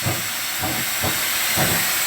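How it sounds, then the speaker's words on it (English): A small 25-horsepower steam engine driving a sawmill line shaft hisses steadily with rhythmic chuffing beats about every half second, close and loud, with no talking. "It's not a really big physical size steam engine that runs this"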